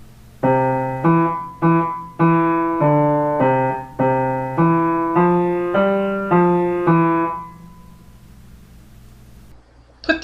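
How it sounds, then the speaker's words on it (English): A melody on a piano-like instrument with notes flowing into one another smoothly, about a dozen tones in an even rhythm before fading out. "Add the legato marks and it sounds like this."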